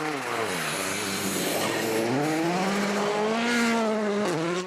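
A Volkswagen Polo R WRC rally car on a stage of the 2013 Rally Sweden, engine note rising and falling through gear changes with sustained high revs, loud and close, joined by a commentator's voice.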